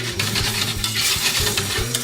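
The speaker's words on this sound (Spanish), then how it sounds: "Sarteneamos un poco." Tortiglioni pasta tossed with sauce in a frying pan makes a rhythmic, repeated scraping and sloshing with a light sizzle underneath, close and steady over a couple of seconds, with no talking.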